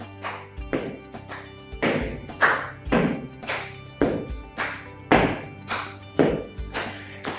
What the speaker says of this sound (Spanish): Elevamos la pierna y aplaudimos por abajo de manera alternada.